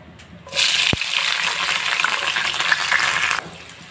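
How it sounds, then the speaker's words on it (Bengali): A sudden loud hiss as onions and chillies hit hot oil, followed by a steady sizzling fry with a brief clunk early on, ending abruptly. "এখন আমি এখানে কেটে রাখা পেঁয়াজ মরিচগুলো দিয়ে দিব।"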